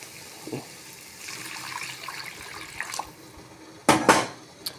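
Kitchen sounds, then water pours into a pan of sambar in a short splashy burst near the end, with a few light clinks of cookware.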